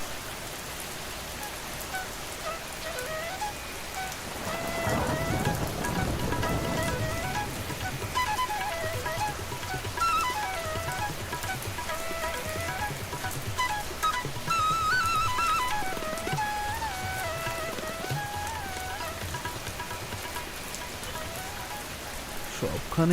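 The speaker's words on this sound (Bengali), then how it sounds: "সবখানেই তো জল পড়ছে।" Cartoon-style rain falls steadily on a village market scene during the rainy season, with louder bursts of downpour swelling twice. Light music plays under the rain.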